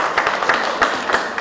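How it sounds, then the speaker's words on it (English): Audience applause at a community planning meeting in an elementary school, a brief patter of scattered hand claps from a small indoor crowd, moderately loud with uneven bursts. "So give yourselves a round of applause."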